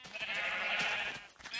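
Minecraft sheep bleating in a single drawn-out, fairly loud bleat lasting over a second, with no talk over it.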